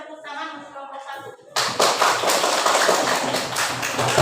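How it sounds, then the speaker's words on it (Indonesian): A classroom group of teachers bursts into hand clapping for a presenting group, starting abruptly after a short spoken moment and continuing as brisk, fairly loud, close applause. "Silakan tepuk tangan untuk kelompok 1."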